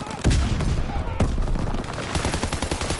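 Dense rapid gunfire from Call of Duty: WWII gameplay: loud bursts and overlapping shots fill the whole stretch, with a sharp volley near the start and another about a second later.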